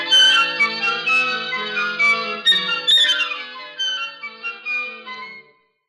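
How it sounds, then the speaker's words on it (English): Orchestra woodwind section of flutes, oboes, English horn, clarinets, bass clarinet, bassoons and contrabassoons playing a lively passage at a children's Thanksgiving concert, bright sustained and trilling notes that thin into short phrases before stopping. "Now another color is the woodwind."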